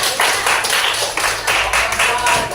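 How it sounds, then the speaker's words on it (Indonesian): A small audience claps for group 3 at a school coaching session: a few people clapping in uneven bursts, fairly close and moderately loud, with faint background murmur. "Oke, tepuk tangan untuk kelompok 3."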